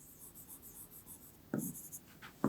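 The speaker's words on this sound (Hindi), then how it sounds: "तो लिखते हैं" Pen or pencil writing on paper, a quiet close scratching that runs in short strokes, followed by two louder sharp taps or strokes near the end.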